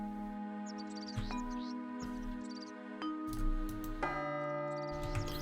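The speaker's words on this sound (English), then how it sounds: "I can make a gong." Metallic gong struck within the video game Realms of the Haunting, several resonant ringing tones that sustain and overlap, quiet and reverberant beneath faint background ambience.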